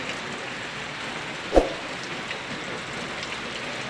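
Rain falling outdoors after a hot spell, a soft steady patter under a faint broadband hiss, broken by one short thump midway.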